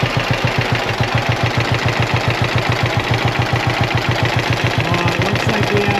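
A rebuilt John Deere B tractor engine running without coolant, a loud, close, steady rhythmic thumping at idle with an even two-cylinder beat that continues throughout.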